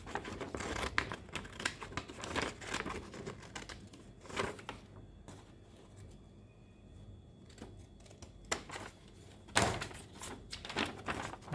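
Scissors cutting paper for a pop-up card, close by, in bursts of crisp snipping and rustling strokes separated by quieter pauses.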